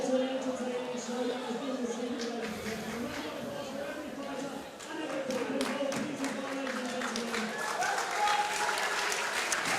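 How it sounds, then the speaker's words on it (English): A packed crowd at a sold-out Muay Thai fight night cheers and applauds steadily after the final bout, with a sustained roar of clapping and shouting under a commentator's voice. "Crowd's still going nuts in the very last fight."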